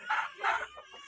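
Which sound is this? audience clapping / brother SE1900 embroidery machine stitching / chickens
chickens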